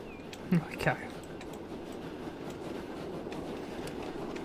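A train leaves the station in the Transport Fever 2 video game, with a low, steady rolling rumble throughout and a couple of brief clunks near the start.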